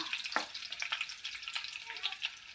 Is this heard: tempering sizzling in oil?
yes